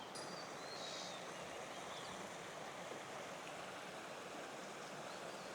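A river flows beside a temple and a banyan tree, its steady broadband rush of water continuous and fairly soft throughout, with faint bird calls above.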